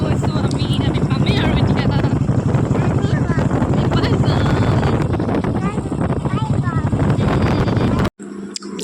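A motorbike ride with a child aboard: a loud, steady low engine drone mixed with buffeting wind noise, and voices talking over it, until the sound cuts off abruptly near the end.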